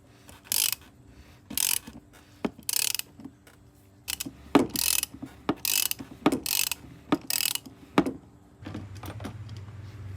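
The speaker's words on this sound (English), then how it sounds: "So you can see here, loosening up that filter" A wrench loosening the oil filter on a 2018-2024 Maserati Ghibli during an oil change, heard as sharp bursts of ratchet clicking in quick runs separated by short pauses, close and clear with no talking.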